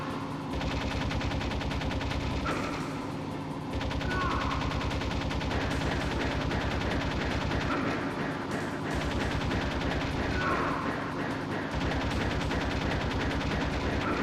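Sustained, close automatic gunfire from the video game Metal Gear Solid, rattling almost without pause, with brief breaks between long bursts.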